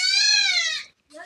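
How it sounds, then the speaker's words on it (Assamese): Goats bleat up close: one long, loud, wavering bleat, a brief silence, then the start of a second call, with no talking. "ছাগলীকেইটা ইমান হেলা কৰিছে"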